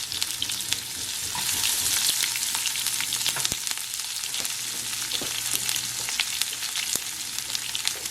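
Onions sizzle and crackle in hot oil, a steady hissing fry with scattered pops and an occasional stirring scrape, close up.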